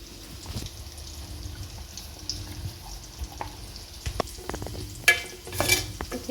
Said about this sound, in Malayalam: നന്നായി ഇളക്കിയെടുക്കാം